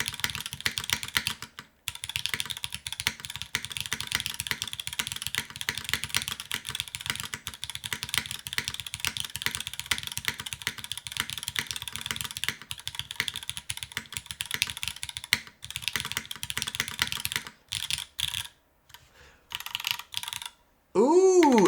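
Fast, continuous typing on a top-mount keyboard with broken-in MX2A Black switches and an FR4 plate gives close, steady clacking with a few brief pauses and a sharp spacebar thock near the end.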